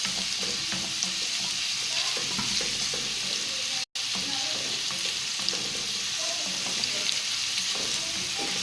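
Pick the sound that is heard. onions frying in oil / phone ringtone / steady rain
onions frying in oil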